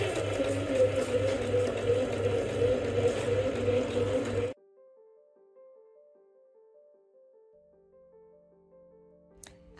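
A sewing machine stitches fabric for a Forager bread bag kit, giving a steady motorized whir for several seconds before it stops and soft background music takes over.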